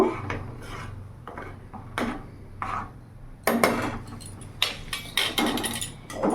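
A spoon stirs dal in a metal pot after turmeric and salt go in, giving irregular scraping and clinking strokes with short gaps between them, close and fairly clear, with no talk.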